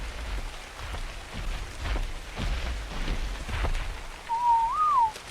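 Rain falling in the game Ark, a steady wash of drops and soft distant rumbles under a brief rising whistle-like tone near the end, with no talking.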